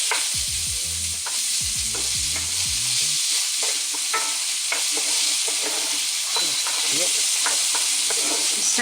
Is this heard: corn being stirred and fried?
yes